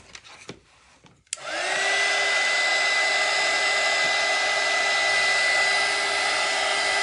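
A hair dryer blowing on fresh paint on a bunny art piece made with glass, buttons and resin; a few faint clicks, then the motor switches on and holds a steady, loud whirring roar with a clear whine.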